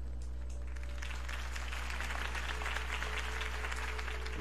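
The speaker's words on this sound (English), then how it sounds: "could have heard that applause" A crowd in the Batman Telltale Series game breaks into steady applause, a dense, even patter of many hands clapping that swells slightly and carries on under a low hum.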